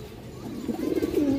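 A pigeon from a breeding pair coos softly, a short rising run of low throaty notes swelling near the end, close by with no talk over it.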